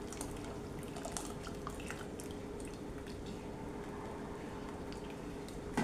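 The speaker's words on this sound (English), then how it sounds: "So there's my water here, boiling away." Water bubbles and simmers in a pot for Jamaican oat porridge with banana and plantain, a steady soft churning with small pops and drips, quiet and close.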